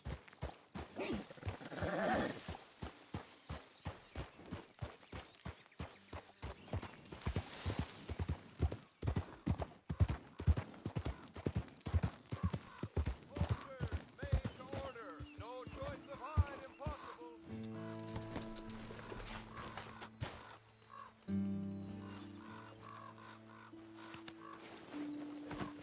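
Horse hooves clop in a fast, even gallop while riding in Red Dead Redemption 2, loud and close, then slow as game music and voices come in toward the end.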